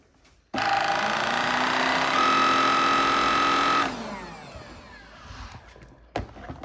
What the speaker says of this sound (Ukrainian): Валик у нас створює 3000 обертів за хвилину.